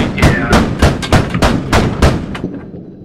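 Heavy gunfire from a Bradley fighting vehicle in a combat video game: about nine loud, evenly spaced booming shots, one after another, with the last ones fading into quiet.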